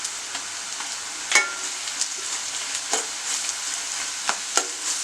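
Onions sauté in a pan for small prawn thokku, with a constant bright sizzle and several scattered stirring scrapes and clinks up close, no voices.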